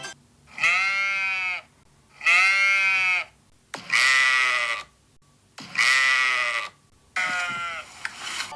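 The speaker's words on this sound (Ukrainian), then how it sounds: "Так, це баран або вівці." Sheep or a ram bleat in five distinct, close calls, each a wavering, nasal cry of about a second with brief quiet gaps between them, clear and alone without voices.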